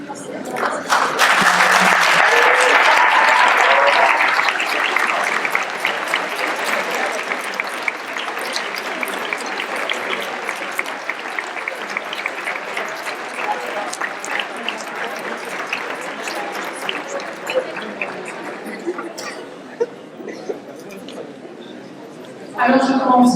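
A large audience applauds graduating final-year students at their proclamation ceremony. The clapping is full and sustained, then gradually thins over about twenty seconds, with a voice rising near the end.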